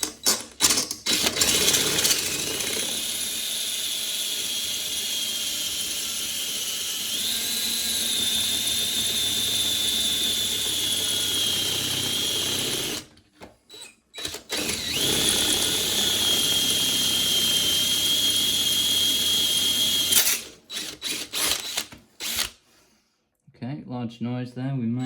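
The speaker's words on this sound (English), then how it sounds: "We'll drill straight through, take the threads off, and the whole cylinder will come out of the front." A power drill boring through a lock cylinder whines steadily and loudly up close, grinding for a long stretch, pausing briefly, then boring again before stopping.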